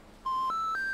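Three rising electronic telephone keypad tones sound in quick succession on an in-game phone in a minimalist mystery adventure game aboard the M/S Cornelia II, each beep clean, steady and close over a quiet background.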